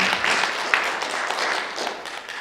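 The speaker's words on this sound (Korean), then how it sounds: "우리 주님께 영광의 박수 한번 드리겠습니다" A church congregation bursts into applause during a healing testimony service, a dense wash of many hands clapping continuously and fairly close throughout, with no speech over it.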